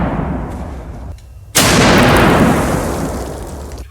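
A .50 caliber rifle firing a single round outdoors, a sudden very loud, close blast that cuts in after a steady background rush and decays slowly over the next couple of seconds.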